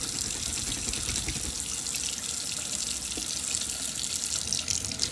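Tap water runs steadily into a sink while makeup brushes are rinsed under the stream, a continuous close splashing hiss with small shifting gurgles and no speech.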